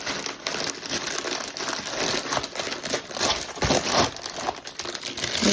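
Close, continuous crinkling and crumpling of packaging during the unboxing of a gold Zealsound K66 USB studio microphone, busy papery rustles with irregular louder crackles throughout and no talking.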